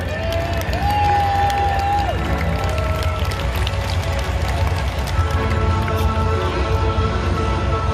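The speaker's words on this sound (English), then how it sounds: "How about a round of applause for Dale Creasy Jr.?" Outdoor crowd at the Night Under Fire drag racing parade cheering and clapping for a drag racer, a steady, dense roar throughout with a brief whistle-like tone near the start and voices mixed in.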